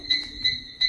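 Playback of a large male frog's call: a steady, tonal chirping in three evenly spaced bursts over a faint background hum, with no speech.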